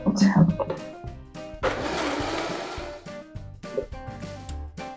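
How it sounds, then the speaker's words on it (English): A blender whirs loudly for a couple of seconds blending a creamy salad dressing, bracketed by clatter and brief handling noises before and after. "And put the blender on tight."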